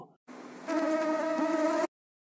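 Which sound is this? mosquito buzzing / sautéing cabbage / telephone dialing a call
mosquito buzzing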